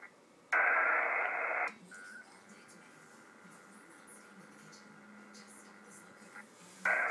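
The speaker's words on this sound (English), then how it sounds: "I've got the monitor turned on my radio, so I can hear the data stream." A loud, steady burst of warbling digital data tones from a Winmor Winlink email transfer over HF radio, then a long quieter stretch of hum with faint noise, before the tones return at the end.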